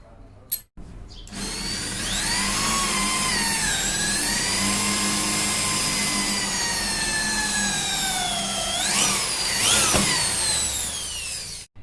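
Power drill boring holes in a metal part for a papad-making machine, a steady high whining motor drone that shifts pitch under load, with brief starts and stops at the edges.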